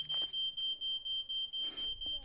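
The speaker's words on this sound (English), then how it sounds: "there's a fire alarm going off." A house smoke alarm shrills in a steady high-pitched tone that runs the whole time, loud and close, with brief bursts of speech and household noise breaking in at the start and again near the end.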